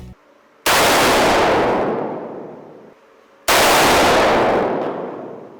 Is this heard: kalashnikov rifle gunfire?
yes